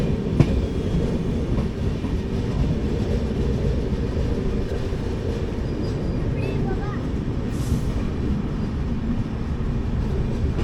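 Passenger train, the Mysuru-Shirdi Express, pulling into Ballari Cantonment halt station in India, a steady loud rumble of rolling cars with faint wheel clatter and a brief high squeal near the end.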